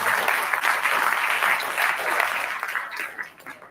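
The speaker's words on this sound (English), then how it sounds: "give a round of applause to all the employees for this work" People at a city board meeting applaud the employees, a steady round of clapping that holds for a few seconds and then thins out and fades near the end.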